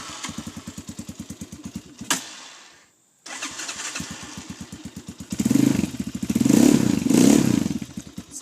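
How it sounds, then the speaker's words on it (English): A 250dx motorcycle engine cranking with a rapid mechanical chug, pausing briefly, then cranking again and catching into a louder, rough idle nearby. "Bike starts up pretty much first go"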